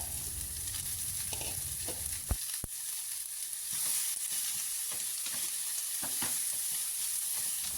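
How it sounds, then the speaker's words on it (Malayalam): Eight medium onions sauté in hot coconut oil for a taro stem roast, giving a steady close sizzle with a few sharp spoon clanks against the pan and no voices. "ഇനി നമുക്ക് സവാള നന്നായി ഒന്ന് വഴറ്റിയെടുക്കാം."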